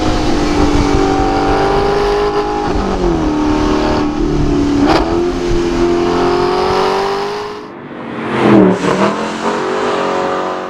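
An Aston Martin V8 Vantage S Roadster pulls along a canyon road, its V8 engine droning loud and close with steady revs, a brief lift in the middle and a sharp rev blip near the end.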